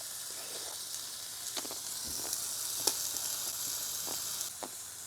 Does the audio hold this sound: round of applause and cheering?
no